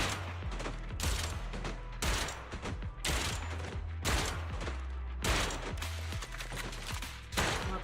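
Rapid bursts of automatic gunfire in the Zenless Zone Zero video game, loud repeated volleys with short pauses between them, mixed with mechanical clicks and no voices.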